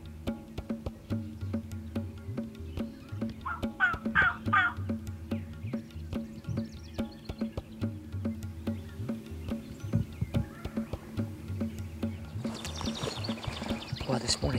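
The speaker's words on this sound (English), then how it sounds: "they sound like they keep gobbling" Distant wild turkeys gobble in a short burst amid a quiet outdoor background of insects and low hum, with faint talking nearby.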